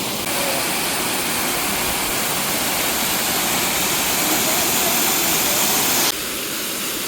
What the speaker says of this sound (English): This is a very cool waterfall.